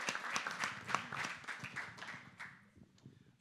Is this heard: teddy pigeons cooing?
no